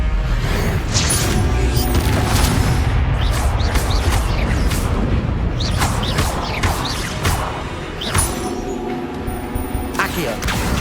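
Incendio fire spell cast repeatedly in Hogwarts Legacy alongside other spells, with whooshing bursts, crackling flame and mechanical clanks in loud, busy combat, voices present.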